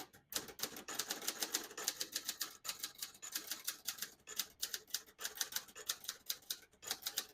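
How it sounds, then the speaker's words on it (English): A 1969 Hermes 3000 vintage portable typewriter is typed on briskly at close range, crisp rapid keystrokes clacking in uneven bursts with brief pauses, alone with no talking. "Beautiful typing machine."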